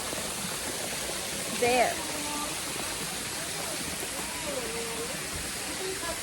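A waterfall at a mountain resort gives a steady, even hiss of falling water throughout, fairly quiet, with a brief voice and faint bird-like chirps over the rush.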